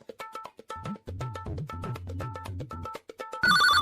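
A telephone rings in repeated electronic bursts under a looping tune, ending in a louder, brighter chirp; no one speaks.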